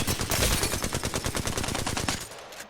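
Rapid automatic gunfire from a gun in Apex Legends, a dense unbroken burst of shots lasting over two seconds, loud and close before cutting off abruptly.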